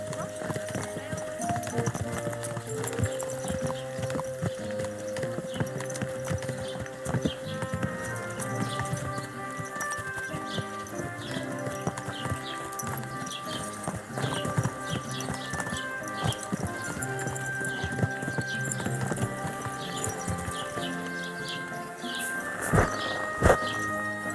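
Horse hooves clip-clop in steady rhythm through a medieval village in Kingdom Come: Deliverance II, riding along under game music and ambient sounds, with a sharper clatter near the end.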